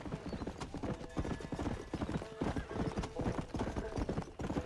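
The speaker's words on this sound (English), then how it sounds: "we don't need to get off our horse" Horse hooves clip-clopping in the Red Dead Redemption video game, a dense rhythmic run of close hoofbeats at a steady pace, with faint game sounds underneath.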